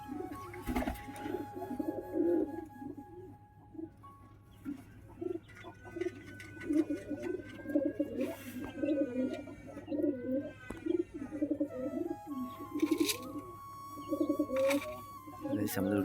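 Lotan pigeons in a loft coo continuously in soft, repeated throaty rolls, several birds overlapping close by with occasional chirps, under a steady background hum.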